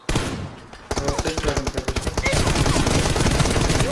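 Rapid bursts of automatic gunfire from PUBG Mobile, loud and close, starting after a brief pause and continuing as a dense rattling stream of shots.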